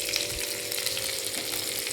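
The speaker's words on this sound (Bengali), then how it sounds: "এবার এটা দিয়ে আমি একটু নাড়িয়ে চাড়িয়ে নিচ্ছি" Onions, ginger, garlic and cabbage sizzling steadily in a pan while being stirred, a continuous close hiss of frying with faint scraping, and no voices.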